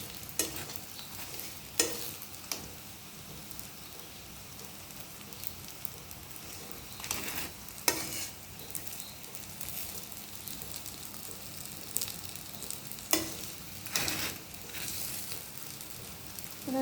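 Pitha made from broken rice grains and ground lentil batter fries in a pan with a steady soft sizzle, broken by occasional louder scraping stirs.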